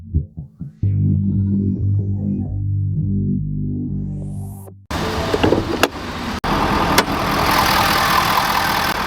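A 2026 Ford F-350 Platinum Plus with a 6.7-liter turbo diesel V8 runs steadily and loudly nearby, first a tonal mechanical whir, then a broad rough idle roar with a couple of brief clicks, no talking.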